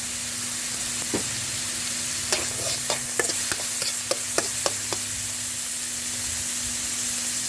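Pork sizzles in a pan with soy sauce for a stir-fry with rice noodles, a steady hissing fry broken by a run of quick spatula clacks and scrapes against the pan, up close with no talk.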